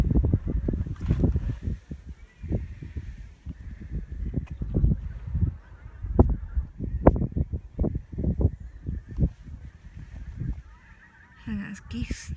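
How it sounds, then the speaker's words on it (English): Geese honk repeatedly in short irregular calls near a nesting site on a Scottish moss nature reserve, moderately close and fairly loud, with a faint murmur of voices and some wind in the background. "And there's geese nesting nearby."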